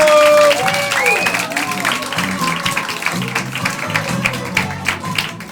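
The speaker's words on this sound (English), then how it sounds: "Please keep this applause going for the one and only Tito." A comedy club crowd in Rotterdam applauds a comedian, with steady clapping and crowd noise throughout and a voice over it near the start.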